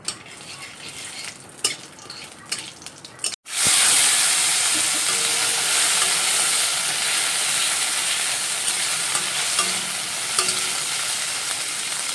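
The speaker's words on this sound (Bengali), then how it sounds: "ডালটা এখন ফোড়ন দিচ্ছি" Tempering of dried chilli, cumin, tomato and ginger poured into boiled mung dal, a sudden loud steamy hiss that burst in after quieter kitchen clatter and then settles into a steady sizzle.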